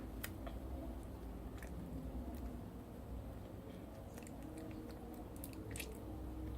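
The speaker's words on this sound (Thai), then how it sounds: "เรากินเลยนะคะ" Someone bites and chews an edible paper candy shaped like a rabbit, close and quiet, with soft repeated crunches and squishy mastication clicks scattered through steady low background noise.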